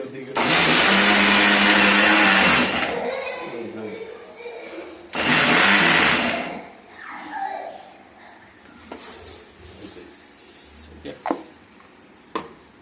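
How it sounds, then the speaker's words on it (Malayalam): A kitchen mixer grinder jar runs loud and close, grinding ingredients into a paste for beef roast in two long bursts, then cuts off and gives way to quieter kitchen clatter and brief sounds. "ഈ മിക്സിയുടെ ജാറിൽ നന്നായിട്ട് പേസ്റ്റായിട്ട് അരച്ച്"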